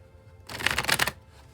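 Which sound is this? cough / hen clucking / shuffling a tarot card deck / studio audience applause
shuffling a tarot card deck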